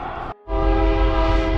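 Train horn blaring at a railroad crossing in a small Colorado town, a loud sustained tone with strong steady harmonics after a brief cutoff, over rumbling rail noise.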